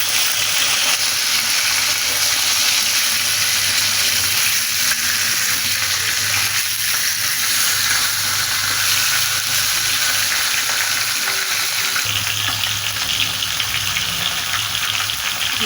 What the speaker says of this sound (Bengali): মাথাটা লাল লাল করে ভাজা নেব